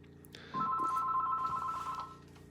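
A telephone rings nearby with a steady two-tone electronic trill lasting about one and a half seconds, fairly loud, with no one talking over it.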